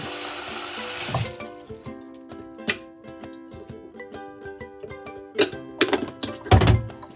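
Water pours in a brief rushing stream for about a second, followed by scattered thunks and clatter close by.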